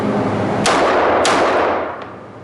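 Two loud pistol shots crack in quick succession at an indoor shooting range in Ringgold, Georgia, each followed by a booming reverberant tail, with a fainter report afterward.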